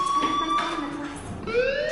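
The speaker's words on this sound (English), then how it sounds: "do you hear that fire alarm? That means you should be outside" A fire alarm in the video game Life is Strange, a steady electronic tone that wavers and shifts pitch, heard continuously at moderate volume with no speech over it.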